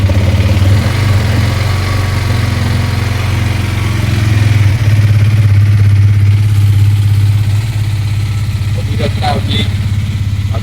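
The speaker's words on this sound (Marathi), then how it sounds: "आपली एक्स्ट्रीम चालू झालेली आहे." A Hero Xtreme 250R motorcycle engine idles after a cold start, a loud steady low throb close by, and a voice speaks over it near the end.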